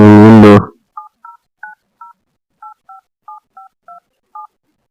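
Telephone keypad tones: about eleven short dual-tone beeps dialed in an uneven rhythm, clear and close, following a brief burst of speech at the start.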